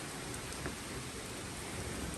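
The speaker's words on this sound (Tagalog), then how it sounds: "yan lakas ng ulan" Heavy rain pouring steadily outside a parked mini camper van, a dense, even hiss of drops with no pauses, fairly faint and distant, no voices.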